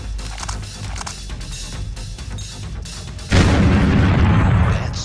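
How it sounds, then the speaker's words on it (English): A pipe bomb goes off in a video game, one sudden deep blast that follows a stretch of busy combat noise and then rumbles on loudly to the end. "just look at what happens when you take someone out with a pipe bomb."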